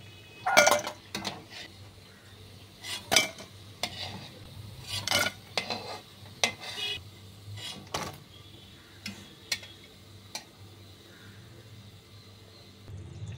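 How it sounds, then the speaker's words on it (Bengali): Masoor dal pakoras fry in hot oil over high heat with a steady low sizzle, broken by repeated metallic clinks and scrapes of a utensil against the pan. "এইভাবে পরের বড়াগুলো আবার ভেজে নিচ্ছি।"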